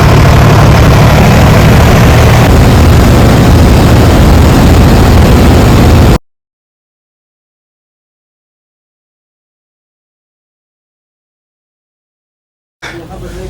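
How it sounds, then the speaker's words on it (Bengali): Engine of a river-crossing boat or steamer heading to Umananda temple, a loud, steady low-pitched drone heard close for about six seconds, then cut to silence before a brief return at the end. "উমানন্দ বাবার মন্দিরে যেতে গেলে আমাদের সবাইকে জলপথে এই বোটে বা স্টিমারে করে যেতে হবে।"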